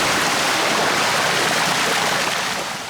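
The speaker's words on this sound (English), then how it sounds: "the water thundered in" Water from two hoses gushes loudly into a Rover car, a dense, steady roar of rushing, splashing water close by that eases slightly toward the end.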